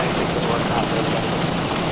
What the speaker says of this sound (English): Sounds like we're getting a little bit of rain.